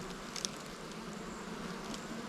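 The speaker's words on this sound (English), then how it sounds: "all these frames are pretty well covered with bees" Steady, close buzzing of honeybees crowding over beehive frames while a new hive is being split off, a continuous hum with a few brief louder passes near the start.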